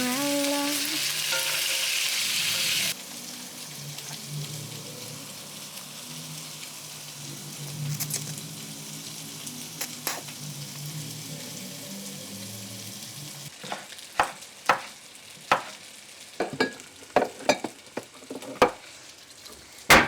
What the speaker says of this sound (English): I'm just cutting up some nice cubes of tofu and then gonna fry them off